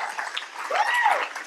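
A church congregation claps their hands in a steady crowd applause, with a voice and cheering heard over it.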